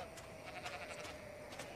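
A cartoon flock of sheep bleats faintly in short, scattered calls over a soft background hum, with no talking.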